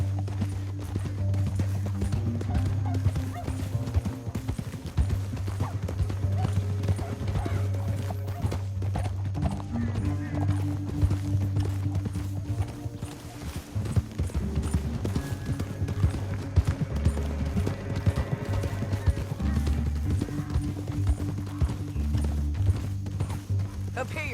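Horses gallop in Red Dead Redemption 2 with a steady clip-clop of hooves and an occasional whinny, heard under continuous background music and spoken dialogue.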